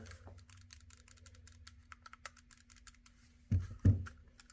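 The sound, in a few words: clicking R1 and L1 shoulder buttons of Retroid Pocket 5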